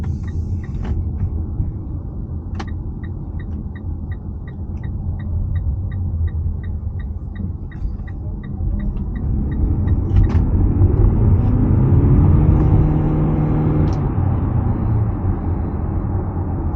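A 2022 Mitsubishi Eclipse Cross PHEV accelerates hard from inside the cabin, its petrol engine and twin electric motors producing a low rumbling drone that swells and climbs after a steady stretch, with a regular ticking chime early on.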